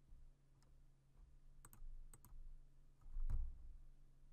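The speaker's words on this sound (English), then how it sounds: "Okay, I'm going to type it in." Keys tapped on a computer keyboard while filling in a form name in Microsoft Access, a few sparse soft clicks with a slightly louder cluster near the end over a low steady hum.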